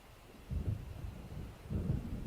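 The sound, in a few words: thunder of approaching storm in video game Alan Wake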